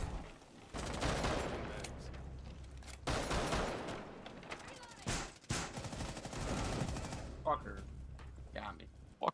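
Sustained bursts of gunfire in the Rainbow Six Siege game, loud and dense, dropping out briefly around three and five seconds, with voices speaking over the last stretch.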